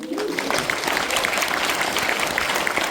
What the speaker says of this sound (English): Round of applause for all you guys.